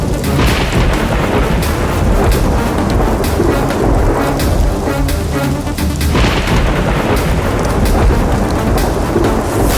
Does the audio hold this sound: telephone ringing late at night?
no